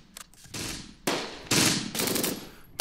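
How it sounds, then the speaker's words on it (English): Bursts of machine-gun fire in a World War II video game firefight near Caen, several long, loud rattling volleys separated by short pauses. "our men are in a firefight right now"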